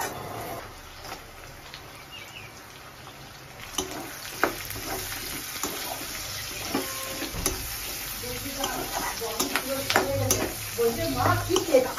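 Onions and capsicum frying in a pan, a soft steady sizzle with occasional stirring clicks and clatter that grow busier toward the end, with a faint voice in the background.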